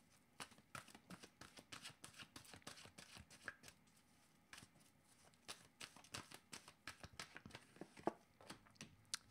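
Oracle cards being shuffled by hand for an intuitive-soul reading, a steady run of quick papery riffles and slaps repeating throughout, close and fairly soft, with no talking.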